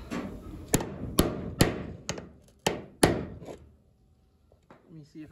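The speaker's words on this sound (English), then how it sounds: "All right, I'm gonna hammer it." Sharp metal hammer strikes ring out while fitting a rear body mount on a 1963 Chevrolet Impala convertible, six heavy blows in a fairly even rhythm, then a pause and a couple of lighter knocks.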